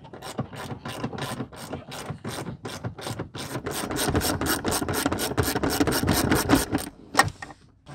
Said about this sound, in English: the top seat comes out with two 15 millimeter bolts, and they're right here in the corners in the wheel wells.